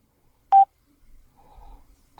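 A single short electronic beep rings out clearly from the touch bar of Ally Solos smart glasses, followed by a faint, low murmur of soft tones in an otherwise quiet space.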